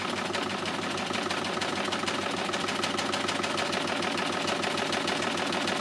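A LUCIE overlocker by Success stitches fabric with a fast, even mechanical chatter, a steady rapid rhythm heard close up and alone throughout.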